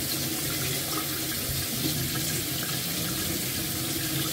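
Water runs steadily from a kitchen tap for a few seconds, a constant close hiss and splash that holds at the same level throughout, with no voices.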